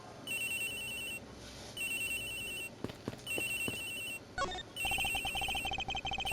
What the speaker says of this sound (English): Ring's coming from somewhere in here, sir.